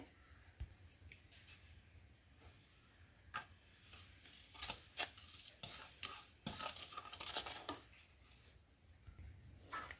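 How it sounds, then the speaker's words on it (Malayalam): Semolina and salt batter mixed in a bowl, a run of irregular scraping and clicking strokes of a spoon against the bowl, close but fairly quiet, with no talk. "കൂടെ നമുക്ക് റവയും കൂടെ ഇട്ട് കൊടുക്കാം കൂടെ ഒരു പിഞ്ച് ഉപ്പ് കൂടി ഇട്ട് കൊടുക്കാം ഇതെല്ലാം കൂടെ നമുക്ക് നന്നായിട്ടൊന്ന് മിക്സ് ചെയ്ത് വെക്കാവേ"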